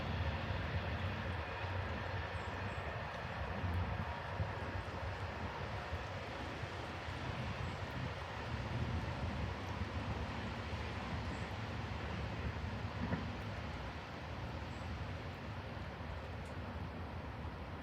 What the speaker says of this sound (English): Amtrak 99 heading to Syracuse